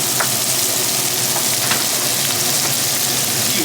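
Shrimp-and-grits pan sizzling steadily after deglazing, with a constant bright hiss of liquid hitting hot metal and a few faint clinks, close and alone without talk.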